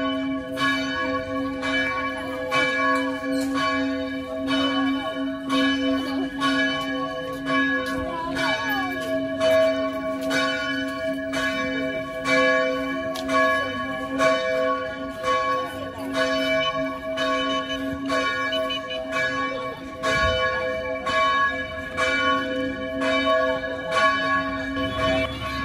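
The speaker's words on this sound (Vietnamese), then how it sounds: "chuông nhà sư đã kêu rồi ạ" Church bells ringing steadily at Christmas outside a Vietnamese parish church, with rich sustained tones and rapid repeated strikes filling the air for a long stretch, no talking.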